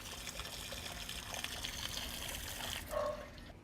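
Steady water trickling and draining through an outdoor floor drain channel into the storm drain system, a continuous close dribble with a brief louder gush near the end, no voices.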